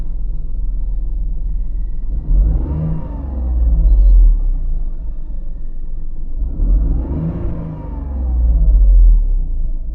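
A car engine revs up twice to about 3,000 RPM after an engine oil change, each time swelling into a loud rising roar before settling back to a deep idle rumble, with no talking.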